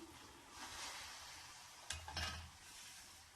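Peanuts are stirred through hot salt in a kadai: a soft, steady gritty hiss, then a brief louder scrape and rattle of the nuts partway through, all quiet and close.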